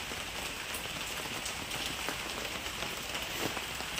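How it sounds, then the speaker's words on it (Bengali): Rain falls steadily after a night storm with large hail, a dense, continuous patter striking surfaces nearby with no other sounds. "বৃষ্টি বৃষ্টি।"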